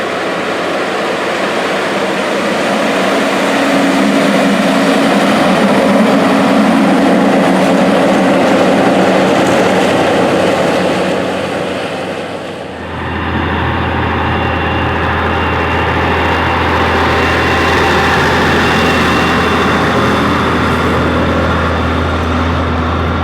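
A modified 890-horsepower John Deere 8960 tractor plowing a field, its heavy diesel engine droning loud and steady with a deep low rumble that dips briefly midway, then settles into a strong continuous throb.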